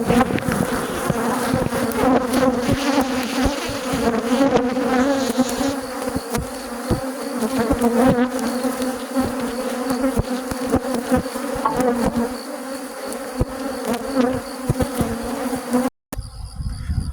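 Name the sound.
honey bees buzzing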